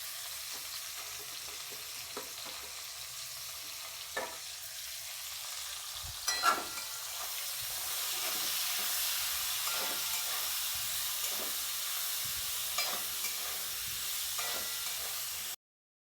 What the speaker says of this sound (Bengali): এবার পেঁয়াজগুলো দিয়ে দেবো। পেঁয়াজ ভালো করে ভেজে নেব।